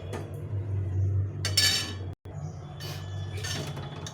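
Bengali potato and pointed gourd curry ladled out of the pot, with a few scraping, clinking knocks of the spoon against the metal over a low steady hum.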